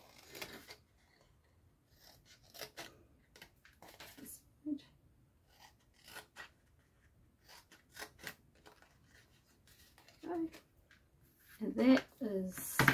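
Scissors snip through designer series paper in a few short sharp cuts scattered between quiet gaps, close and crisp, with someone talking softly in between.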